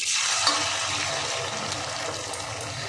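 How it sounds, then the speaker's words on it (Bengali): Snacks made from raw grated potato and wheat flour fry in hot oil, giving a steady, close, loud crackling hiss that holds evenly throughout without any talking. "কত সুন্দর ভাজা হচ্ছে"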